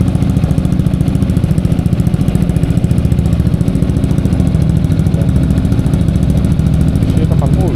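A ProSpeed scooter with an aftermarket exhaust revs hard and holds a loud, steady engine drone close by for the whole stretch, with people talking over it.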